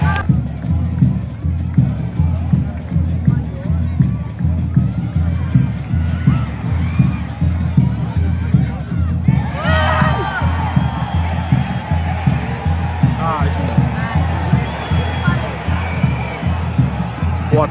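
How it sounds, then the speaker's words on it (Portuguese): Angry football crowd at Estádio do Café during Londrina versus Botafogo, a dense, loud roar of the stands with rhythmic chanting and stamping pulses throughout, rising in shouts around the middle. "A torcida tá muito brava com o juiz aí, e com razão, hein, pessoal."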